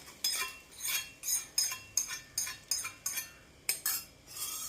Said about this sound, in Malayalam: നമുക്ക് ഈ തൈര് സാദത്തിലോട്ട് ഈ താളത്തും കൂടെ ഇട്ട് ഇളക്കാം